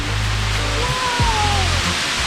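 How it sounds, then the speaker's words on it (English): Roaring wash of Bridal Veil Falls, a big waterfall plunging into a cave, a dense steady broadband rush filling the whole stretch with low rumble underneath and no pauses. "We got a big old waterfall."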